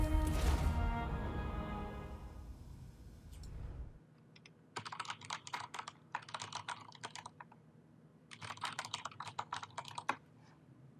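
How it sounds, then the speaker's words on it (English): Rapid keystrokes on a computer keyboard come in two clustered bursts of clicky typing, fairly faint and close, after a louder game sound fades out at the start. "Insert typing on Discord."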